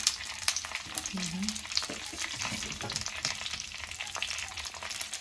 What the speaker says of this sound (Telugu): నూనె వేగిపోయింది కదా, దొండకాయలు వేసేసాను